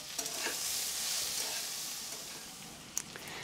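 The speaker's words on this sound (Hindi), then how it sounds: "तेज़ आट पर मैंने चार से पाँच मिनट के लिए भिंडी को अच्छे से भून ली हूँ" Okra sizzles and fries steadily in a hot pan while being stirred, with a continuous close hiss and a few sharper scraping clinks near the end, no voices.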